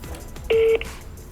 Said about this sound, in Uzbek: Shu do'kondan telefon qilyapmiz, Imperiyadan.